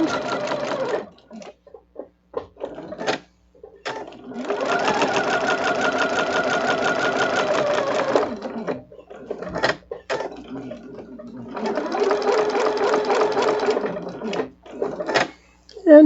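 A sewing machine stitches quilted fabric around a scrap French rose, running in two long steady bursts with short starts and stops and clicks between them, close and loud with no talk.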